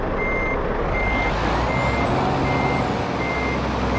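Scania truck starting up in Euro Truck Simulator 2, a steady loud engine rumble with repeated electronic beeps over it, no talking.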